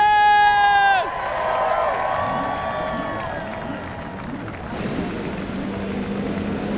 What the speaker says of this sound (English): drivers of the 2018 Verizon IndyCar Series, start your engine!